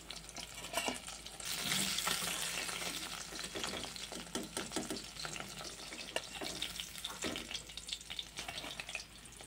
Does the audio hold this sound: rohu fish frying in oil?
yes